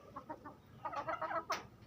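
Farm chickens in a shaded coop give soft, quick clucks, a short burst of low calls followed by a busier cluster and one sharper squawk, close by and fairly quiet against light outdoor background noise.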